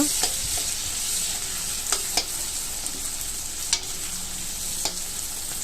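Onion and a large tomato sautéing in a pan for Tamil Nadu style chicken gravy make a continuous close sizzle, broken by several sharp spatula clicks against the pan.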